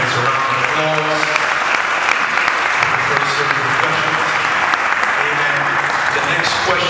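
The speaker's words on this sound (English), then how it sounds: "Come on, let's give the candidates a round of applause." An audience at a Bronx mayoral candidates' forum claps loudly and continuously for the candidates, a thick, even roar of hands throughout, with voices talking and calling out underneath.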